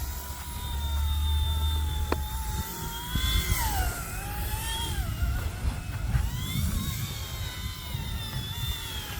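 An RC ERA 186C Pro radio-controlled helicopter flies near the camera, its motor and rotor giving a steady whine with rising and falling pitch sweeps as the throttle changes, continuous and fairly loud throughout.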